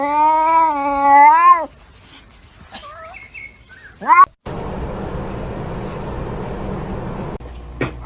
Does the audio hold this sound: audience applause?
no